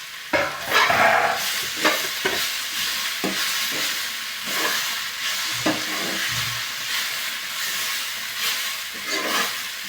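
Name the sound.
stirring vegetable curry in iron wok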